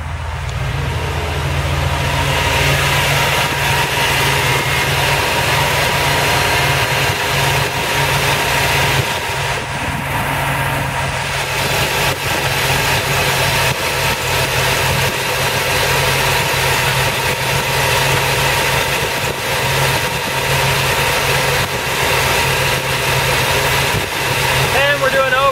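A car engine with a 300A-plus GM high-output alternator idles steadily at 800 RPM, giving an even, continuous hum and vibration that stays loud and close throughout.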